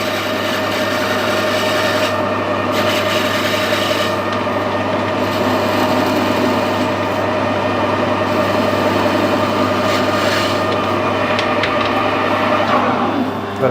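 A metal lathe machines a part held lightly in the chuck, giving a steady loud whir with a constant motor hum and a faint scraping cut throughout, no pauses.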